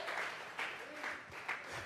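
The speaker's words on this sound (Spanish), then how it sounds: "Vamos a regalarle ofrenda de palmas al Dios de la gloria." A church congregation claps together during a Sunday service, bursts of applause rising and falling in a steady rhythm, fairly close and moderately loud.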